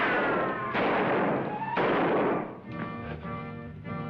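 Gunfire in a 1953 western TV drama: two loud, booming shots in quick succession, each ringing out with a long echoing tail, followed by a fading rumble.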